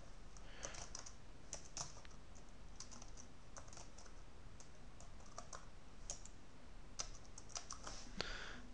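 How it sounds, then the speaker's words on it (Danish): Fast, irregular clicking of keys on a computer keyboard as text is entered into a Mathematica text field, close by and steady throughout with no talk. "Det tager lige lidt tid at taste ind."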